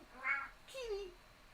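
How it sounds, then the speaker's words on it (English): An 11-year-old pet cat meows twice in quick succession, the first call higher and the second a falling, drawn-out cry, fairly close and clear against a quiet room. "My kitty is very talkative."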